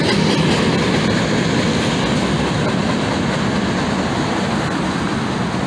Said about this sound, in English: I didn't know the train was gonna come, but yeah, there it goes over there